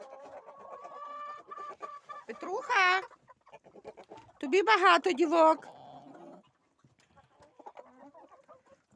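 Chickens and a rooster cluck and squawk in a loud, excited flurry, with someone talking nearby between the outbursts.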